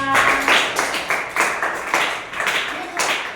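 Schoolchildren clap hands together in a classroom, a loud, close burst of roughly seven evenly paced group claps in steady rhythm.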